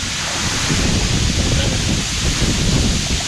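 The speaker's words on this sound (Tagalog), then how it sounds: "Woo! May bagyo! May bagyo ata eh!" Strong storm wind gusts by a waterfall at Dragon Falls in Nantou, Taiwan, a loud steady roar and rumble of wind noise on the microphone blended with rushing water, no clear talk.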